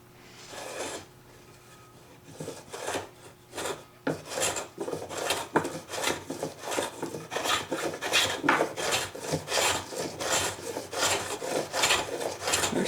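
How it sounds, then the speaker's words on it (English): A cheap Japanese hand plane is pulled across rough, partly planed wood in repeated rasping strokes, each a close, scraping swish that comes in a quick steady rhythm and grows louder after a slow start. "Here's a section that's a little bit planed already and kind of rough still."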